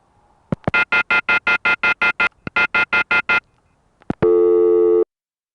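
A telephone off-hook warning tone from a 1970s telephone exchange panel sounds as two loud bursts of rapid, evenly spaced electronic beeps, then a steady, harsh buzzing tone, with no talk.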